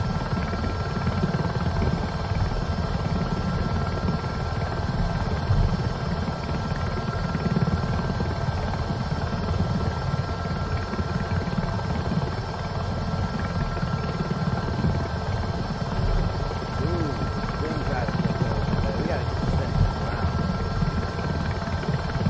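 A helicopter in Microsoft Flight Simulator 2024 holds a steady rotor and turbine drone, with a constant thrumming beat and a high whine, loud and unbroken throughout.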